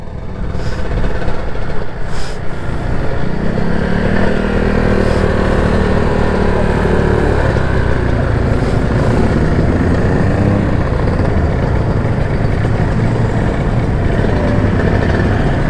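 Crowd of two-stroke motorcycle engines idling and revving at a large two-stroke owners' gathering in Bandung, a steady loud engine drone throughout with rising and falling rev tones near and far.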